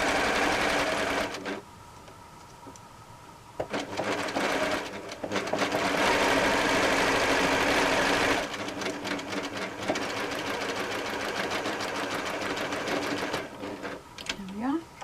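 A sewing machine stitches a quilt seam in continuous loud runs of rapid mechanical chatter, pausing and restarting and changing speed, with a final soft thread-pulling sound.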